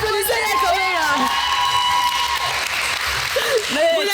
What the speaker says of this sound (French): Et vous applaudissez les copains là